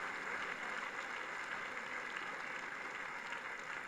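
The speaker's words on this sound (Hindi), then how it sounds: "तालियों की गड़गड़ाहट से श्रद्धेय अडवाणी जी का अभिनंदन किया जाना चाहिए" Steady applause from a large crowd greets Advani at a BJP National Council meeting in Talkatora Stadium, a dense, even wash of clapping with no pause.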